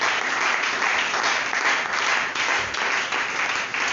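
A church congregation claps and cheers loudly in continuous, dense applause filling a large hall, rising and falling slightly without a break.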